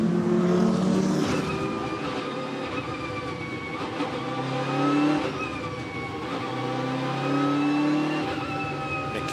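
GT race cars accelerate at the Zandvoort circuit during an ADAC GT Masters race restart, engines revving in steady rising and falling tones with overlapping passes, loud and continuous.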